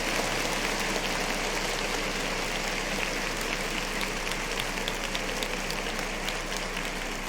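Steady, dense audience applause from a crowd cheering the introduction of a rapper, holding a constant level throughout without pauses, hiss-like and close, with no clear talk over it.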